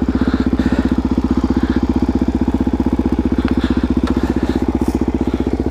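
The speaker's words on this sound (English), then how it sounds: "let me get this thing turned around, which is always fun on loose gravel" A vehicle engine idles with a steady, loud, close throb while the vehicle turns around on loose gravel, with faint crunching from the gravel layered above the even pulsing.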